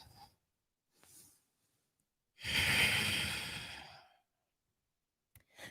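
A person takes a long, audible breath during yoga practice, a breathy rush lasting under two seconds, with softer breaths before and after in quiet surroundings.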